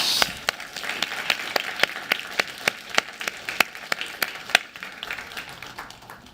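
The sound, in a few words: audience applause for the finalist teams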